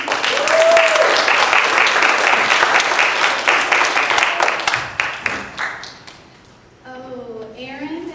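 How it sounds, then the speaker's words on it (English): Church congregation applauding during a Sunday service, sustained dense clapping that thins and fades out toward the end as people start talking. "let's give him a big round of applause"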